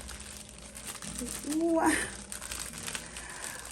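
A purse package is cut open and unwrapped: crinkly plastic rustling steadily with a louder tearing swell in the middle, close and fairly quiet, with a brief spoken exclamation.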